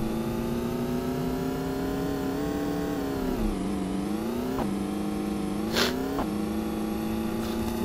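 A car engine in the mobile video game Payback 2 revs steadily and loudly with shifting pitch, climbing and dipping between gear changes, plus a couple of brief sharper bursts near the end.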